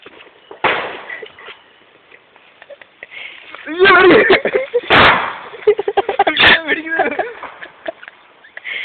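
A few sharp firecracker bursts pop out amid excited talking, one loud crack standing out near the middle, with shouting voices around it.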